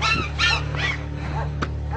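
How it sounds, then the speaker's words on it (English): A puppy gives short yips and soft whimpering cries in a few bursts over a steady low hum, with indoor background noise. "Puppy."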